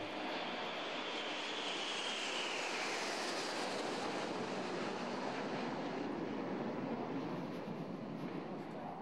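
A-4 Skyhawk jet aircraft passing overhead, a loud continuous broadband roar that swells and slowly fades, alone with no voices.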